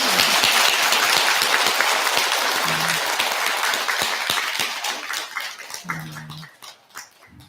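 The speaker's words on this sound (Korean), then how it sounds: "큰 박수 한번 부탁드립니다." Worshippers at a Buddhist Dharma service clap in a loud dense burst that gradually thins into scattered individual claps toward the end, with a few brief voices.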